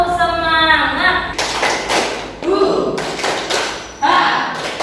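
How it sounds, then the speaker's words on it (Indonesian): A classroom group claps in quick rhythmic bursts, with children's voices shouting and cheering between the rounds of clapping. "Tepuk semangat."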